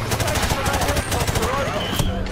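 Rapid automatic gunfire from soldiers firing on enemies in the final mission of Call of Duty 4: Modern Warfare Remastered on PS4, loud, dense bursts of shots rattling without pause over a busy battle din.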